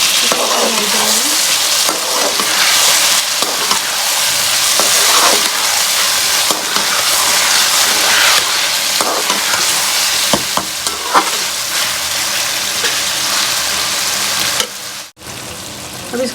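Chicken sizzles loudly in masala for a kachnar dish as it is fried and stirred, a dense, continuous close-up crackle with frequent scraping stirs and a brief dip near the end.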